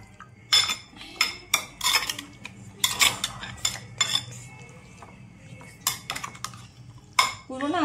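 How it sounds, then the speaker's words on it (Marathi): Ground masala paste being mixed onto fish in a dish, a series of irregular close clinks and scrapes of a utensil against the dish with pauses between bursts. "पूर्ण असं मिक्स करून लावायचं हे वाटण"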